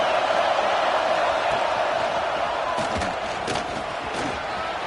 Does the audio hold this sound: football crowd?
yes